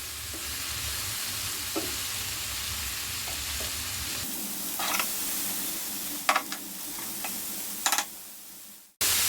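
Boiled vegetables stir-frying over a medium flame in a pan for paneer jalfrezi, a steady soft sizzle broken by a few sharp spoon scrapes and clicks near the end, no voices.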